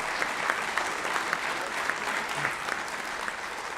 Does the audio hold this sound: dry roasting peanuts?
no